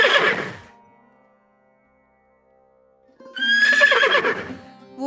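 A horse gives two loud, close whinnies with a silent gap between them, as a horseman rides past in an animated Hindi moral story.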